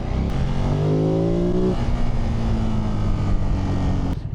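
A 2025 Ducati Monster 937 motorcycle revs hard, with rising engine and exhaust pitch that cuts off abruptly before settling into a steady, throbbing run, close and loud with no talking.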